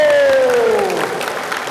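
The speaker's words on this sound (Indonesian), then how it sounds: "Tepuk tangan dulu." Audience applause at a Bugis-language religious lecture, a brief burst of clapping from a gathered crowd with a fading electronic tone over its start.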